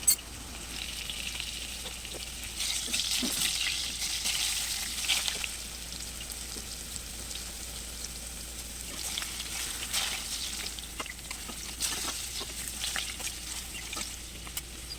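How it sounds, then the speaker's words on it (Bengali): Potato pieces fry in hot oil for a homemade chicken curry, a continuous close sizzle with bursts of crackling and a few stirring scrapes, and no one speaks. "তেল গরম হয়ে গিয়েছে, এবার দিয়ে দিচ্ছি আমি আলুগুলো ভাজার জন্য"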